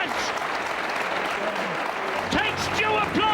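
Audience applause breaks out for Earl Strickland's shot at a 1997 Mosconi Cup pool match, a steady wash of clapping that swells slightly toward the end, with a commentator's voice running over it.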